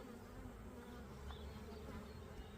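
Honey bees buzzing around their hive during a spring check-up, a faint, steady insect hum with a few closer passes, no talking.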